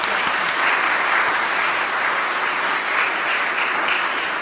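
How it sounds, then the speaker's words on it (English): Sustained audience applause at a community meeting, a steady dense wash of clapping from a crowd that holds evenly for several seconds without voices on top. "Can we give our Chief a great big round of applause?"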